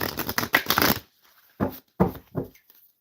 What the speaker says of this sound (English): So we're going to show you that I am shuffling them.